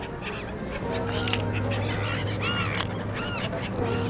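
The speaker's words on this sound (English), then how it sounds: "look at this guy feeding the birds" Birds flock and honk like geese or pigeons while being fed by a man on a busy London street, with several calls rising over steady traffic and city hum, no speech.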